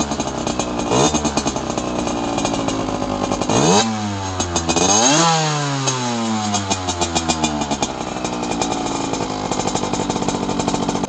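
A Gilera SMT 50cc two-stroke motorcycle (2013, Top Perf kit, new and still breaking in) warming up, its buzzy engine loud and close, blipped through several sharp revs that climb and fall before settling back to a rough idle.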